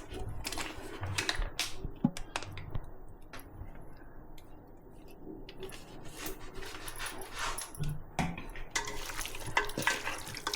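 Chicken being mixed by hand with a masala marinade of turmeric, lemon juice and ginger-garlic paste, giving soft wet squelching and light tapping against the bowl, fairly quiet and continuous.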